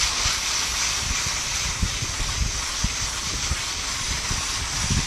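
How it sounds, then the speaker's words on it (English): Water from a garden hose nozzle hisses steadily as it sprays across the fins of an HVAC coil. The constant rushing spray is close by, with faint patters and drips underneath. "I want to kind of point my hose in my nozzle in the direction that it's going"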